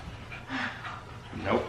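A dog with the zoomies pants and huffs in short breathy bursts, moderately close, with a faint whimpering vocal note near the end and no talking.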